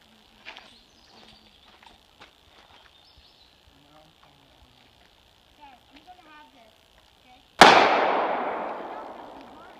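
A firearm fires a single loud, sharp gunshot outdoors that rings out and decays, after a quiet stretch of faint background sounds.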